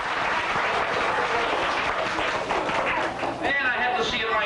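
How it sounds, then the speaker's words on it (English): Audience applause at a fire safety show on Cape Cod, a dense, steady wash of clapping that fills the whole stretch, with voices and cheering mixed in near the end. "So we should give them a nice round of applause today."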